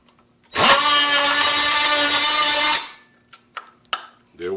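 A Ryobi 18V oscillating multi tool cuts plastic in a short burst of about two seconds, a loud buzzing whine that stops abruptly, followed by a few sharp clicks and knocks nearby.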